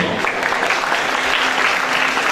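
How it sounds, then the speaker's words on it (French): Steady, dense applause from a pageant audience at the Miss Somme 2018 beauty contest, sustained and fairly loud throughout with no pauses. "On peut encore applaudir aussi bien fort."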